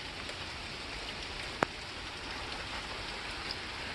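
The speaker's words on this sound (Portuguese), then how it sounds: "Finalmente a chuva chegou, graças a Deus." Steady rain falling at the end of a dry spell near wildfires, a dense even hiss of drops on surfaces throughout, with one brief sharp tap standing out midway and no voices.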